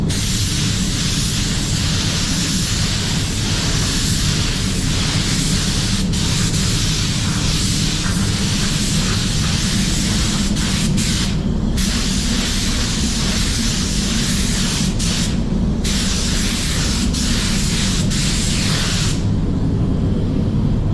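A spray gun laying a second coat of metallic paint on an Audi A6 (2020) body part, a continuous loud hiss running steadily with a few brief interruptions.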